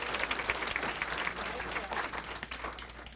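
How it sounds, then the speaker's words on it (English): Audience applause at a volunteer appreciation celebration, a sustained even patter of many hands clapping, moderately distant and continuous with no talk. "let's give him a big round of applause"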